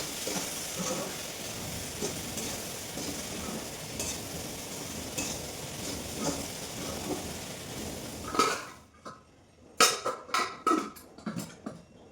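A pan of frying food sizzles steadily for several seconds, then goes quiet as a lid is set on, followed by a few sharp metallic clanks and clatters.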